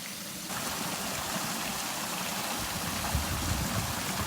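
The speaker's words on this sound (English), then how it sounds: "this incredible waterfall over here" Water from a backyard waterfall beside a garden bridge rushes and splashes in a steady, full roar, heard close and continuous with no voices.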